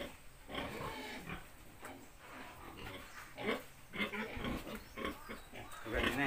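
A Large White x Pietrain cross sow grunts repeatedly as she is let out of her pen, the close, irregular grunts mixed with someone talking nearby.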